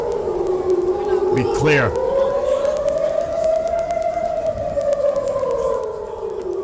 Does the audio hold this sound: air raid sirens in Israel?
yes